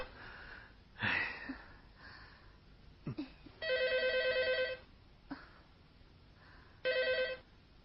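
A telephone rings indoors in two clear electronic bursts, one longer around the middle and a shorter one near the end, separated by quiet rustling and a couple of sharp handling noises.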